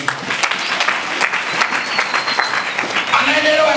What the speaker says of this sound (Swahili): Anaendelea kupiga makofi kwa Mungu.